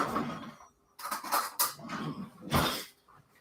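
Spoon and dishes clinking and clattering in a kitchen while Christmas tree cookies are decorated, a few sharp bright knocks in irregular bursts with pauses between.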